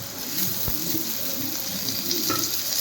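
Onion and chopped tomatoes fry in a pan for torka dal, a continuous close sizzle with a few clinking stirs of the spoon, no one talking.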